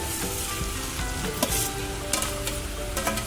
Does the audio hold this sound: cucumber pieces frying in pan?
yes